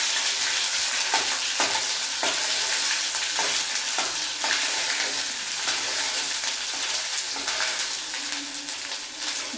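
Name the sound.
onions frying in pan with ginger garlic paste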